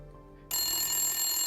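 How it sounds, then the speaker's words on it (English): A phone rings suddenly after a quiet room hum: a bright, steady electronic ring tone starts abruptly and holds for about a second, close and clear, with no voices. "Phone call."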